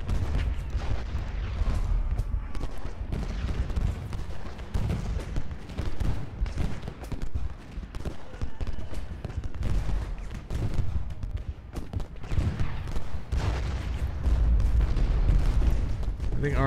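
Artillery fire in a Civil War battle at Gettysburg in Ultimate General: repeated booming cannon blasts and rolling gunfire crackle steadily throughout, with someone talking over the din.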